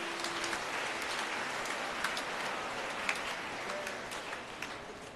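Church congregation clapping during a homily, a steady dense patter of many hands heard from some distance, fairly soft, with a few sharper claps standing out.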